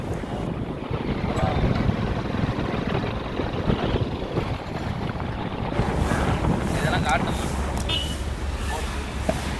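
A motorbike ridden through Muthupettai town, with heavy wind rushing over the microphone and a low engine drone beneath, steady and continuous throughout.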